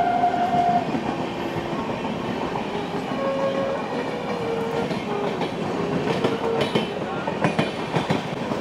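The Howrah Rajdhani Express passes close by on the Barddhaman–Howrah chord line, a sustained loud rumble of wheels and clattering carriages with brief horn tones and no talk over it.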